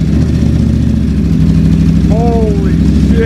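Ducati Panigale V4 SP with a Termignoni exhaust and race filter idling close by, a loud, steady, throbbing rumble with a short brighter rise near the end.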